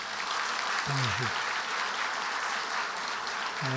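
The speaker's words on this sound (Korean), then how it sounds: "박수로 환영해 주시기 바랍니다" A church congregation gives steady, dense applause to welcome a visiting pastor, with a voice speaking briefly over the clapping.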